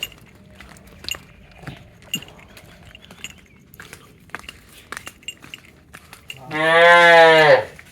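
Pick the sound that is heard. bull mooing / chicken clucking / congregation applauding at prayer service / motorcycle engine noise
bull mooing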